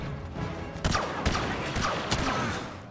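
Blaster fire from the DT-12 in the video game Star Wars Battlefront: a few sharp shots cut through a dense, noisy battle backdrop of constant gunfire and explosions, with irregular spacing.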